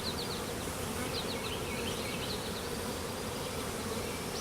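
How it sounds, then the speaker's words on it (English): Honey bees festoon a hive frame during a swarm transfer into a second box, their buzzing steady and dense throughout, with single bees whining past up close. "Got one more frame here with bees festooning on it."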